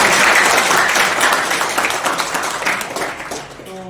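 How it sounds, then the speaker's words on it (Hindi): A gathering of labourers welcomes a guest with a dense burst of applause that starts loud and slowly fades, and a voice cuts in at the very end. "हम सब मजदूर हैं तो हाथ में तालियां हैं तो हम सब स्वागत करेंगे।"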